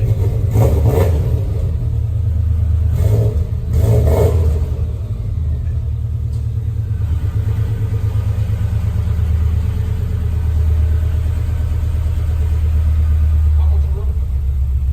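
A car engine rumbles low and steady, with a couple of brief revs near the start before settling into a deep idle.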